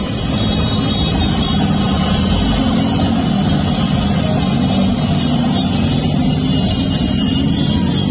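A dense crowd of motorbikes fills the streets of Lebanon during a celebration, a continuous loud blended engine roar with no distinct individual passes or pauses.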